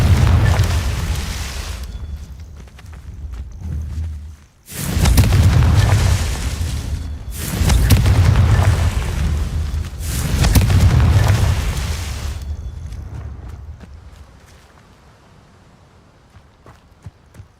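Three booming Confringo explosion spells from Hogwarts Legacy, each a loud broadband blast lasting about two seconds and separated by brief gaps, followed by a quieter fading tail with light scattered sounds.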